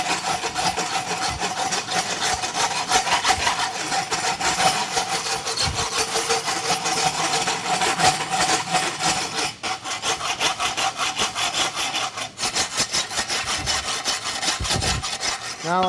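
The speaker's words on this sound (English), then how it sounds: "I'll rasp the whole second half of the shoe." A rasp files steadily across a forged egg-bar horseshoe held in a vise, making a continuous loud, close scraping of rapid back-and-forth strokes that runs without a break.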